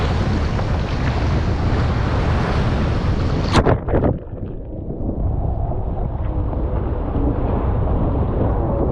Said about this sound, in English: Now you guys can see how big the waves are